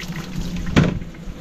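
Tap water pours into a laundry basin in a steady, close rush, with a brief louder gush near the middle before it carries on evenly.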